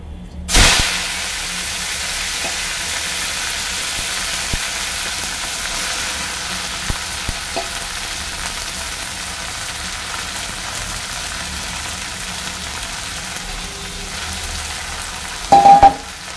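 Black cumin seeds and leafy greens frying in hot oil with dried red chilli make a loud, steady sizzle that runs throughout after an initial burst, with a few faint clinks and a brief louder crackle near the end.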